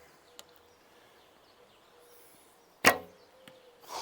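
A single arrow loosed from a Falco Myth bow with a tipless, lightweight arrow, giving one sharp, brief snap amid quiet outdoor ambience with faint scattered ticks.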